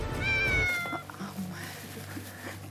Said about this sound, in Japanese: 猫とかおるやん。